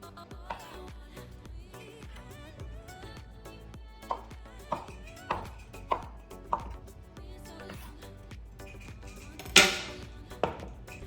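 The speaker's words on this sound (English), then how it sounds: "We will start by slicing the shiitake mushrooms." A knife slicing shiitake mushrooms on a cutting board, a run of evenly spaced crisp taps with one louder clack near the end, close and quiet with no voices.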